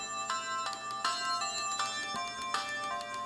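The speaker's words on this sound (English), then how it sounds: "taking a look at Twinkle Tail on the Mega Drive, and just want to see how loud this gets" Twinkle Tail Mega Drive game music playing from a metal GKD Pixel II handheld: a bright, chiming melody of short, evenly paced notes over a soft backing, fairly quiet and with no talking.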